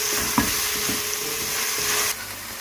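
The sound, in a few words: chicken frying in a pan with black pepper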